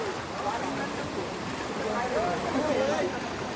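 Floodwater rushes past on a flooded stretch between Johe and Tambadshet near Pen, Maharashtra, a constant turbulent wash under a voice speaking nearby.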